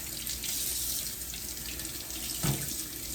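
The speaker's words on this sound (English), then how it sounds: "I'm going to run it under the sink. This will be my first rinse" Watermelon rind is rinsed under a running kitchen sink tap, giving a steady, moderate rush of water with a brief louder splash near the end.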